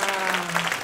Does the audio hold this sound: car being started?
no